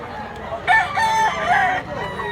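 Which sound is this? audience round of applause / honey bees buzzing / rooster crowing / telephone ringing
rooster crowing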